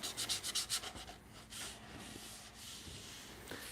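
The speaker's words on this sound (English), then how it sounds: "I'm not really detail sanding, I'm just kind of knocking the high spots off" Wood is hand sanded with quick, rhythmic rasping strokes to knock down high spots before another coat, about eight brisk passes up close, then slower, quieter rubbing.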